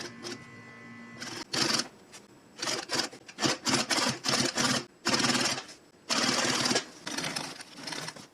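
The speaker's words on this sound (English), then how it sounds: "This is a needle feed machine." A needle feed sewing machine stitches a rope hem on a leather-handled tool bag, running in short rapid bursts of rattling stitching separated by brief pauses, close and clear.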